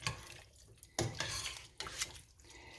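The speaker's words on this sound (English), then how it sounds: "And I just stir this all up." Vegetable beef soup made with leftover pot roast is stirred in a pot, giving faint intermittent clinks and scrapes of a utensil against the pot with soft liquid sloshing.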